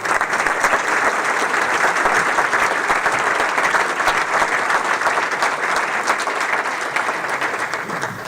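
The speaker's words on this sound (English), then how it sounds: "Please give them a round of applause." An audience at a Madison event gives a loud, continuous round of applause, a thick, even roar of many hands clapping that holds nearly level throughout and tapers slightly at the close.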